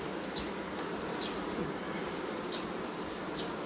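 Honey bees buzz around their hive in a steady, dense drone, with a few individual bees flying close past the microphone at intervals.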